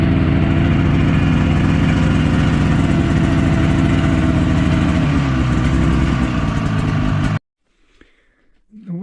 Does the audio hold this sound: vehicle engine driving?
yes